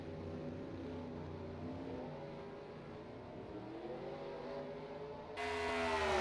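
Race cars in a Nintendo Wii U racing game drone steadily at a moderate distance, engine tones overlapping and shifting in pitch, then a louder car cuts in near the end.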